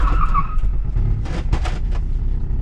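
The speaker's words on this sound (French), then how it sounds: "bah là ça a bloqué les roues." Car braking hard with its wheels locking up and skidding, a short loud tire scrape over engine rumble, heard during repair work on an ABS unit fault.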